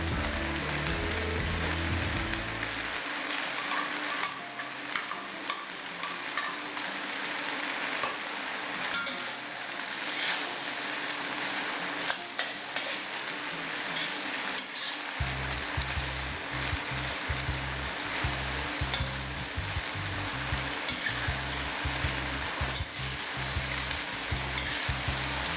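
Macaroni stir frying with mixed vegetables in a pan, a continuous loud sizzle throughout, with scraping stirring and a low rumbling burner hum at the start and again from midway on.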